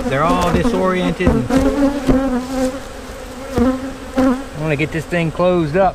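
Honey bees buzz at an open hive piled with bees, a close, wavering drone running beneath a voice as he talks throughout.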